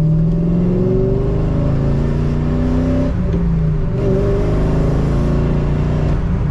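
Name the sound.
cammed C5 Corvette braking aggressively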